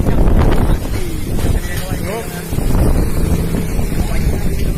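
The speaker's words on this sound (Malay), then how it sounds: "Angin, kena angin ni." Strong wind blusters across an open outdoor spot in Aceh, a continuous loud roaring rush buffeting the microphone, with people talking faintly underneath.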